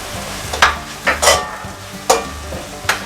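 Tomatoes with chili, turmeric and sambar or coriander powder sizzle softly in a pan for vadacurry, broken by several sharp, irregular stirring scrapes.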